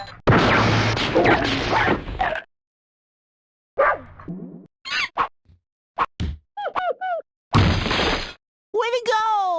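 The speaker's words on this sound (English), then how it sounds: "You should be able to smash them open and rescue the puppies inside." Wooden crates smashed open in a PlayStation video game, loud crashing whacks and breaking bursts spaced with silences, mixed with short chirpy game sound effects.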